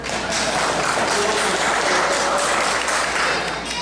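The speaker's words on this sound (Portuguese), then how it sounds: "Palmas para o Cici." Applause from a church congregation during a Sunday morning service, a dense steady wash of clapping lasting several seconds and fading slightly at the end.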